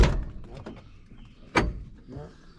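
A frozen-shut door on a 1968 Ford Mustang drag car being forced open, a sharp metallic clunk at the start, more clunks and rattles, then a louder jolt and creak near the end, close by.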